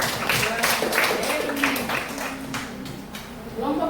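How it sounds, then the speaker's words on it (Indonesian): A group applauds with rapid, dense hand clapping in a classroom, the claps steady and close for several seconds before thinning slightly toward the end. "Tepuk tangan."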